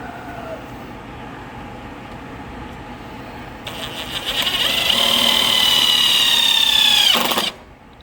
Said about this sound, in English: So he's going to drill a couple holes in it.